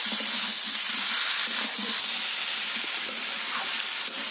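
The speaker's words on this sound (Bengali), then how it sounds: "এর মধ্যে দিয়ে দেব আলুগুলো দিয়ে আবারও ভালোভাবে নেড়ে চেড়ে দিতে হবে" Potatoes fry in a pan with a loud, close, continuous hiss and sizzle, and soft stirring scrapes and knocks run under it, with no one speaking.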